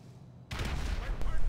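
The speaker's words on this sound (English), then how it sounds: "I just threw a sticky bomb up, blindly threw it over the wall, and killed the..." A sticky bomb thrown blindly over a wall detonates in GTA V, a sudden loud blast after a brief quiet, followed by a sustained rumbling roar with a sharp crack near the end.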